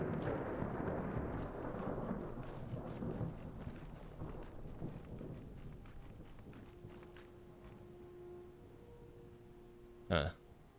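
Faraway Skyrim explosions rumble like thunder beneath a continuous outdoor wash, fading gradually before one sharper, louder burst near the end.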